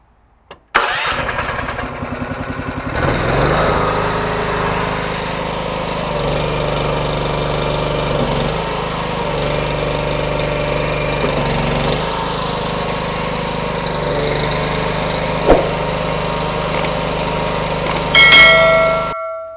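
The engine of an Allrounder lift starts with a brief cough and then runs steadily at a mid-pitched drone while the outriggers are raised, with small clanks and shifts in load near the end.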